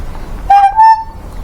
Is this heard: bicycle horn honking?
yes